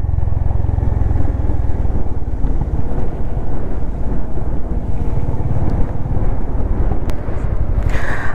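Wind roars across the microphone on a Honda Highness motorcycle during a monsoon ride on a slippery road near Lonavala, a loud continuous buffeting rush with a low engine rumble underneath for over eight seconds.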